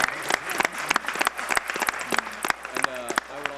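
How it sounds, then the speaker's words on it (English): A school crowd cheering for the Bradshaw team claps along in scattered, uneven bursts near the microphone, with distinct individual claps and a speaker's voice talking over them. "Yeah, clap it up."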